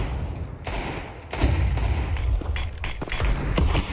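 Gunfire in a Counter-Strike match at the PWE Shanghai Major 2024, Desert Eagle pistol shots mixed with other weapons, loud sharp cracks and booms in uneven bursts.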